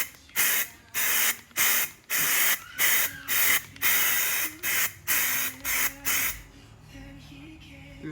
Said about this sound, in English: I'm gonna go ahead and hit this with the coat of the silver.